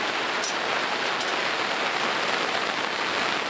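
Heavy rain pours steadily onto a tent roof at dusk, a dense, constant hiss of drops with no letup, close and loud, with no voices.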